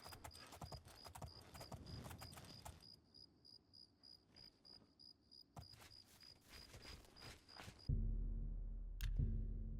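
Horse hooves clip-clop steadily in Elder Scrolls IV: Oblivion, a regular trotting rhythm over a constant chirping of crickets, before the hoofbeats stop near the end and a low rumble takes over.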